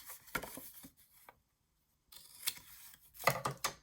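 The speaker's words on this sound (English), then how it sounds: "this one we only have to basically just cut that off" Scissors snip through a paper layer while a gift card wallet is being made: a few close, crisp cuts and paper rustles, a brief silent gap, then more snipping and handling.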